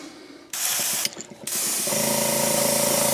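Airbrush spraying Createx Opaque Yellow paint onto a shad wakebait lure: a rapid mechanical clicking ratchet under a hissing spray that starts, briefly stops, then resumes as a steady loud hiss with a droning compressor tone.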